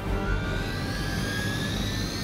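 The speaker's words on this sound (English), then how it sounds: "Target the helicopter with attacks to disable it before time runs out" Helicopter in the video game Marvel's Midnight Suns, a constant heavy engine and turbine whine with a low rumbling drone, loud and steady throughout, with a faint rising tone above it and no voices.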